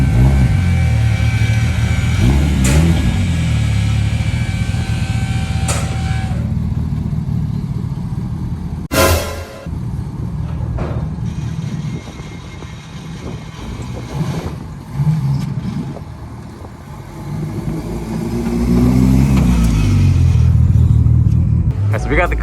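A Subaru BRZ with a custom 3-inch valved catback exhaust and HKS front pipe rumbles steadily at a shop in Pickering, swelling into a louder rev near the end, with talking throughout.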